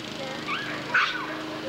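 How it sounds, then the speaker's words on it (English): A big dog whimpers and lets out short yips and bark-like cries, close by and moderately loud, with softer background sounds around it. "Say, come here, big dog."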